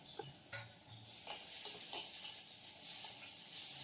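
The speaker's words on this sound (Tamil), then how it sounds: "நல்லா தக்காளியை நல்லா வதக்கிடுங்க" Steady sizzling and frying of chopped tomato sautéing in a pan, with occasional stirring scrapes and soft clinks, close and moderately quiet.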